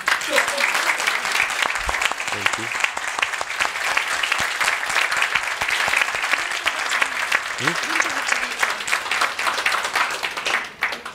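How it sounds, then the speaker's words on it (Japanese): Sustained applause from a lecture audience thanking a guest journalist and interpreter at a cultural salon talk, dense clapping lasting around ten seconds with a few faint voices underneath before it trails off. "ぜひ拍手でお礼を 表したいと思います。"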